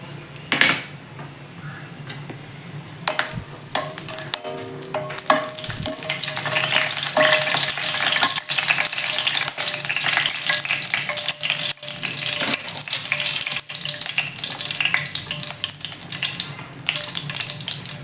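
Whole spices, cinnamon, cloves and cardamom, crackle and sizzle in hot oil in a kadai for a mushroom gravy, a steady close frying hiss with occasional stirring clinks and scrapes.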